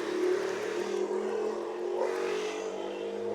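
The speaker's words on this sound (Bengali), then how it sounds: "শর্ট রেসিং কার আসতেছে" A racing car engine in Asphalt 8 drones steadily with a sustained, buzzing tone that holds at an even, fairly loud level throughout, with slight swells but no clear gear shifts.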